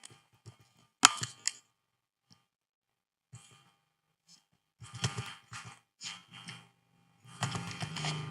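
Keystrokes on a computer keyboard while entering text into a spreadsheet footer, a sharp burst of clicks near the start, then scattered taps and quick rapid clusters of typing later on, fairly close and clear with no talking.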